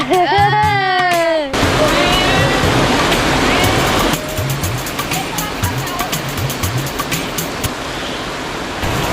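A loud, constant rush of falling water roars nearby, with a voice heard briefly at the start and faint talking underneath.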